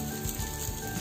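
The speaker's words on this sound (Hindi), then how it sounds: "दोनों ओर से इसमें घी लगा के अच्छी तरह से लाल और क्रिस्प होने तक सेक ले।" A soybean quesadilla fries in ghee on a pan, giving a steady, dense sizzle with no pauses, close and fairly loud.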